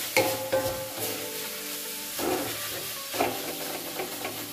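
Noodles with beef being stir-fried in a hot pan, a steady sizzle and hiss with several clattering scrapes of a utensil stirring, close and moderately loud, no talking.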